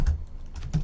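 Keystrokes on a computer keyboard, a short burst of close, crisp taps with a brief pause in the middle, alone without talk.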